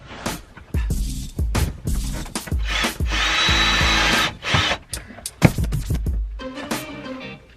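A power tool drives screws into a fuse box mounted under a shelf in a self-built VW T5 camper conversion, with repeated loud whirring bursts, short pauses between them and one longer sustained run.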